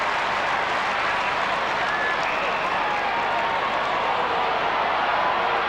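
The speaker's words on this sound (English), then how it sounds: "And the crowd not happy about the angle Glenn Lovett has been forced to come round on" Stadium crowd at a 1997 Australian football match between North Melbourne and Melbourne, a sustained dense roar of voices and scattered clapping, loud and constant throughout with no clear breaks.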